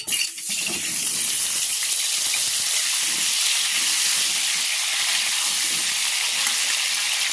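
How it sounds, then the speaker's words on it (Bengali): Potatoes frying in hot white oil, a loud, steady hiss of vigorous sizzling close by, opening with a brief clatter as the pieces settle, then continuous crackle to the end. "আলুটা লাল লাল করে ভেজে নেব।"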